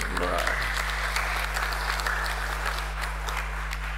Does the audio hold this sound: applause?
yes